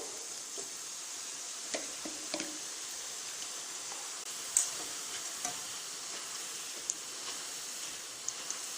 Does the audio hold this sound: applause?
no